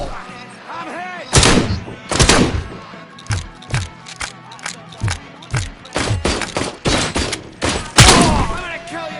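Gunfire in a shootout, a series of sharp loud shots and bursts spaced irregularly, some clustered close together, with shouting voices between them.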